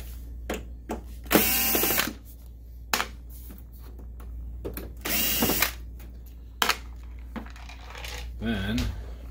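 Screws being backed out of a Sanyo PDG-DHT100L DLP projector with a power screwdriver, several short whirring bursts of varying length with clicks and small rattles between them, close and fairly loud, with no talking.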